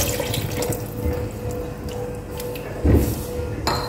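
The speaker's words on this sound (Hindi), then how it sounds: "अब इसमें पानी डाल देंगे।" Water is poured into a pan of anda chanay, an egg and chickpea curry, making a steady splashing pour with a louder gush near the end.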